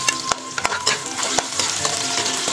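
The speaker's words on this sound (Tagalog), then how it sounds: "Ipiprito natin ng konti" Chicken breast pieces sizzling in a pan while a utensil stirs them, sharp scraping knocks against the pan rising above a constant close frying hiss.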